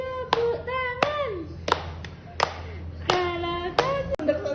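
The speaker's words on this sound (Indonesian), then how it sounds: "Hati tepuk tangan." Hands clap along to a children's song, sharp separate claps spaced about every second over a sung melody with voices.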